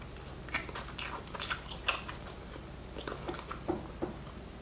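Someone chews tough restaurant food close to the mic, with irregular soft crunches and wet bites in small bursts over quiet room noise, and no talking.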